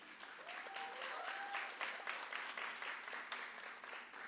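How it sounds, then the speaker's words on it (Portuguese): A church congregation applauds the pastor's wife with a soft, steady wave of many hands clapping for a few seconds, fairly distant and even, and a faint voice or two beneath it. "Uma salva de palmas para minha esposa."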